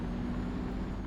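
Truck in Euro Truck Simulator 2 driving in second gear, giving a steady low engine drone with a faint constant hum and no other sounds.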